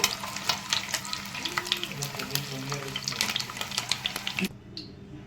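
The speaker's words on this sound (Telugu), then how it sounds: "ఇగో ఇట్లా మంచిగా ఫ్రై చేసుకోవాలన్నమాట ఆయిల్లో." Eggs frying in oil in a pan for a ridge gourd egg curry, a close crackling sizzle with frequent stirring scrapes that stops abruptly near the end, leaving a quiet room.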